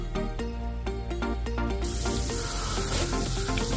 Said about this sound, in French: je vais faire rissoler mon oignon